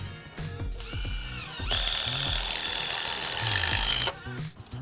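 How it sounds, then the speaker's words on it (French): A power drill driving screws to fix awning support arms onto posts, a loud close whir that rises in pitch and holds steady for a few seconds before stopping, with clicks and handling noise around it. "Donc là, on va visser les bras de force sur les poteaux."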